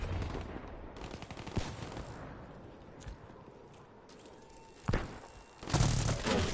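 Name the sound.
gunfire in video game Black Ops 3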